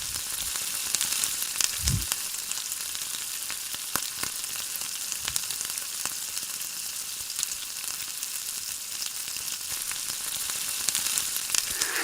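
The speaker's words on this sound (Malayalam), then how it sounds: "മീഡിയം ടു ഹൈ ഫ്ലെയിമിൽ ഇട്ടിട്ട് വേണം ഈ ചിക്കൻ നമ്മളിപ്പോൾ ഫ്രൈ ചെയ്തെടുക്കാൻ." Pieces of chicken fry in hot oil over a medium-high flame for a Malabar chicken mushman dish, giving a steady, close, crackling sizzle that lasts throughout, with occasional faint stirring knocks and no talking.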